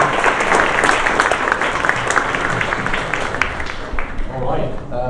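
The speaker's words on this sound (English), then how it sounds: "It's a round of applause." A crowd at a junior hackathon show-and-tell applauds loudly and steadily, a dense burst of clapping that thins toward the end as a voice starts talking over it.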